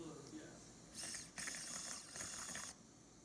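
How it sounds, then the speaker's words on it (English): A surgical reamer grinds into a dog's acetabulum during a cementless total hip replacement, two faint whirring bursts, each lasting about a second, in a quiet operating room. "Now we're ready to ream, ensuring that the reamer stays central and we don't drift too dorsally,"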